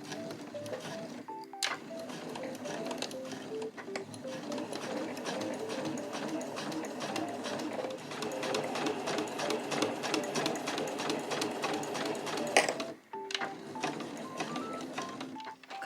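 Sewing machine stitching along fabric edges about 1–2 mm in for a small trunk-style key case made from scraps, running in steady close bursts with brief pauses and a stop near the end.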